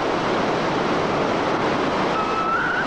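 A whitewater rapid on the Zambezi River rushes and churns in a loud, unbroken roar of turbulent water heard up close, with no voices.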